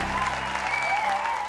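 A studio audience applauds in a dense, sustained burst of clapping, loud and steady throughout the short moment, with a faint voice or tone drifting over it.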